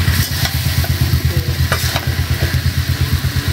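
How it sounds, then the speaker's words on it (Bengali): Chicken with cauliflower and tomato stir-fried in a pan for kasha, with loud, close, rhythmic stirring and a continuous sizzle throughout. "আমার মাংসটা কষানো হয়ে গেছে"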